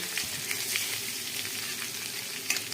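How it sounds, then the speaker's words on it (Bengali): Radish greens fry in a pan with a steady, hissing sizzle, while light scrapes and taps mark them being stirred now and then, close and moderately quiet with no voices. "মূলো শাকটা দিয়ে দিয়েছি, দিয়ে একটু নাড়াচাড়া করে নিয়েছি"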